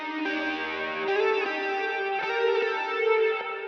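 A heavily distorted electric guitar, a Strat played through a Neural DSP amp preset with reverb, plays a sustained lead line with a few note changes and a singing, effect-laden tone, alone and clear.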